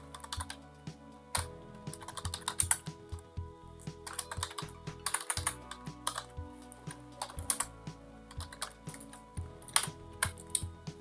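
Computer keyboard typing while code is entered for an Excel ribbon tab, with quick irregular bursts of clicky keystrokes and short pauses, close and steady throughout with no speech.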